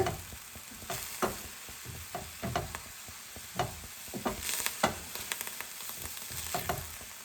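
Kale and bitter gourd leaves are stir-fried in a pan, a steady low sizzle broken by repeated scraping and tossing strokes from a spatula.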